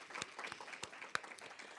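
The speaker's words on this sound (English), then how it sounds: "Let's give them a round of applause." Sparse, faint clapping from a small audience at a home-buying seminar: a handful of scattered individual claps rather than a full ovation, distant and low in level.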